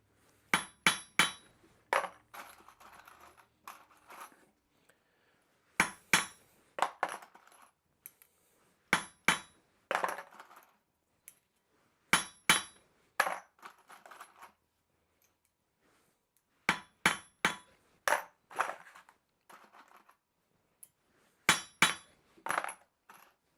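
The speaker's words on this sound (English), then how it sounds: "Doesn't take much, 1 or 2 taps with the hammer." Sharp metallic hammer taps on punched steel, flattening a burr at a blacksmith forge, struck in short bursts of two to four ringing blows separated by pauses, close and clear with no talking.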